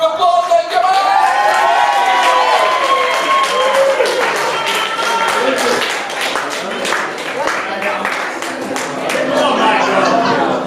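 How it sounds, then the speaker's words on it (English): Wedding guests clap, cheer and whoop loudly as the newlyweds are introduced for their first dance, a dense sustained crowd roar with voices mixed in and music starting near the end. "Big round of applause, thank you, man!"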